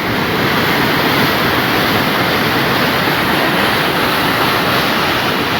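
Forceful rainy-season waterfall on a hillside, water rushing down in a loud, continuous broadband roar that fills the scene steadily with no pauses.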